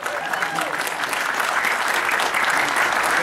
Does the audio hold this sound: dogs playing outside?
no